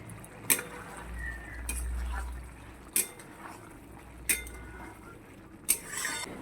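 A knife cuts through cauliflower and other vegetables in a series of sharp, isolated chops spaced more than a second apart, quiet and close over a low background hum.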